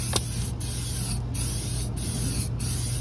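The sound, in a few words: spraying Amsoil HD Heavy Duty Metal Protector undercoating under a car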